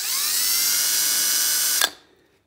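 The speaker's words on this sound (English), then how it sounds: "And then you put the mandrel in your drill." A drill spins a pinewood derby wheel on a mandrel with a steady, close, high whirring whine that holds for nearly two seconds, then stops abruptly with a small click and winds down to silence.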